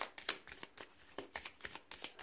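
A deck of tarot cards is shuffled by hand in a quiet room, giving a close run of soft riffling flutters and light papery slaps that repeat irregularly for a couple of seconds with no talk.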